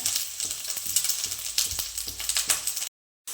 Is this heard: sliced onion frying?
yes